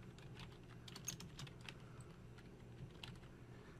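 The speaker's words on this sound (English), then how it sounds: "Now I'm going to type my first and last name." Fingers type on a computer keyboard in a steady, fairly quiet run of light key clicks with short pauses, heard alone with no talking.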